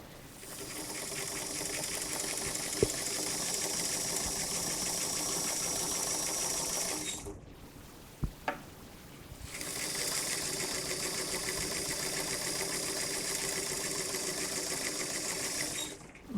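Domestic sewing machine stitching a Chanel-type jacket at a moderate stitch length: two long runs of steady, close, rapid mechanical whirring, separated by a pause of about two seconds with a few soft clicks.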